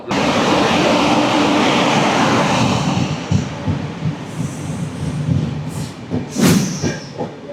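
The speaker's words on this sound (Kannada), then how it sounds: "ನಾವು ಇಷ್ಟೊತ್ತವರೆಗೂ ವೆಯ್ಟ್ ಮಾಡ್ತಿದ್ದ longest train of India, Kanyakumari to ಅಸ್ಸಾಂನ ದಿಬ್ರುಗರ್ವರೆಗೂ ಹೋಗುತ್ತೆ ಇದು" India's longest train, the Kanyakumari to Dibrugarh service, rolls past with a loud, steady rumble of wheels and carriages close by that eases slightly, ending with a few high squeals and knocks.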